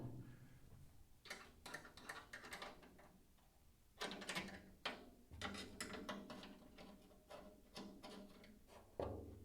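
Ratchet wrench clicking in bursts while working on a car in a home garage, with irregular metallic ticking runs separated by short pauses, fairly close and moderately quiet.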